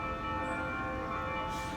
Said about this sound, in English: Why this bell still ringing?